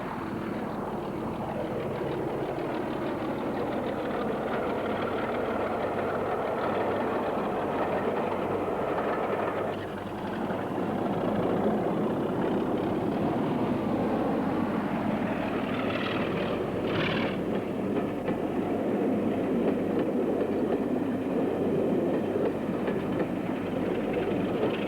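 A British Class 26 diesel locomotive passes Lonmay Station near Fraserburgh, its steady engine rumble and rolling wheel noise holding loud and continuous throughout with no speech.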